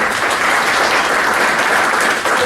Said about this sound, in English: Give a big round of applause for her.